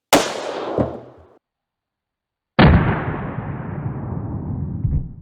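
Two loud gunshots fired at a Temu ballistic face shield mask, each a sharp blast with a long decaying tail, separated by a brief gap of silence, close and with no talk.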